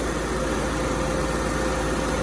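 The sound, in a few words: 1994 Buick Century 2.2 four-cylinder pushrod engine idling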